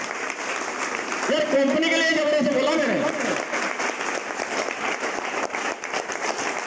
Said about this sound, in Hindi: यार तालियां बजाओ